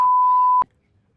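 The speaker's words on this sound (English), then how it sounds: "It sounded like a beep used to censor a swear word." A single loud, steady censor beep over a swear word lasts about half a second and stops abruptly, followed by near silence.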